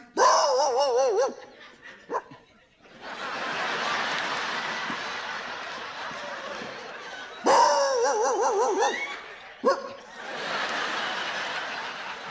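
A comedian imitates dogs barking at night during a stand-up set, with yelping, howling barks in bursts, while the audience laughs and murmurs between them.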